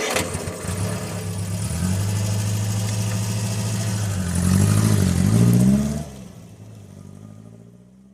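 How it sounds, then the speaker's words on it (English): A car engine revs steadily and loudly, swelling to a higher surge near the end before cutting off into a fading, lower engine tone as the car moves onto a steep, winding road up a cliff. "The driver revs up the engine, and the car turns onto the steep, winding road"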